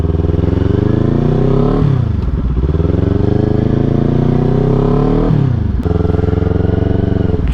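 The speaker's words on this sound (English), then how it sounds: "So this is a 400cc motorcycle." Kawasaki Z400 400cc motorcycle ridden at slow speed, the engine droning steadily up close with two short dips where the revs drop and pick back up.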